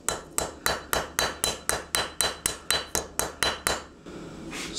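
A hammer strikes a hand-forged knife blade in a steady run of about fourteen evenly spaced, ringing blows, close and loud, as the steel is smoothed and straightened before a short pause and a final hit.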